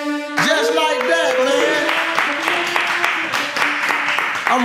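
A live sports talk show audience applauds steadily throughout, a dense wash of clapping mixed with tonal voices or music layered on top.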